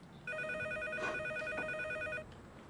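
A telephone ringing in a home, one steady electronic trill lasting about two seconds at moderate volume before stopping.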